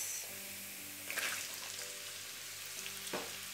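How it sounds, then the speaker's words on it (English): Chopped onions sizzling in hot oil with cumin seeds, bay leaves and ginger for chana masala, a steady close frying crackle with a couple of brief stirring scrapes. "Once the cumin seeds start to change the color, I'm going to add the chopped onions."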